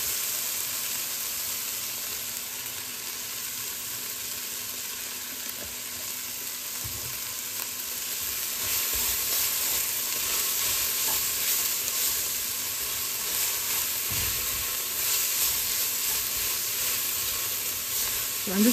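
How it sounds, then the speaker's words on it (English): A garlic and homemade spice paste fries in a pan with freshly added oil for chili and is stirred as it cooks. A continuous close sizzle and hiss grows slightly louder midway, with occasional scraping. "I think I'm going to add a little oil to keep things going."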